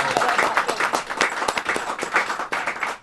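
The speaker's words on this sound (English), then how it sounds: "That's a nice big cheer for you there." A studio audience at a live referendum TV broadcast cheers and claps for a Scottish Green Party guest walking on, a dense, sustained burst of applause with scattered whoops throughout.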